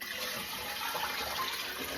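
Shrimp-soaking liquid and water poured into a pot of pork ribs, a steady continuous splashing pour running throughout at moderate level.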